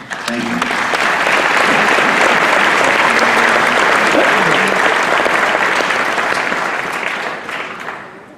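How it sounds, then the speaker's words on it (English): Loud, sustained applause from a large audience, swelling quickly and holding steady before fading out at the end. "Please, another big round of applause for yourselves."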